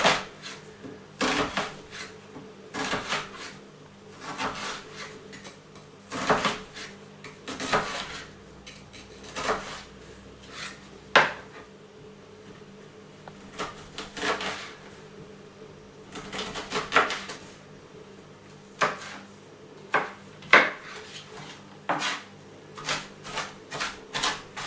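Onion is chopped small with a knife for meatball soup, a long run of crisp, uneven knife taps on a cutting board, sometimes in quick clusters and sometimes spaced apart, close and moderately quiet.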